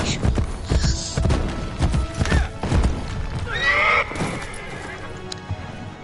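A horse in Assassin's Creed Brotherhood gives a loud, wavering whinny amid steady clip-clopping hooves and thuds, close and prominent, with the hoofbeats fading afterward.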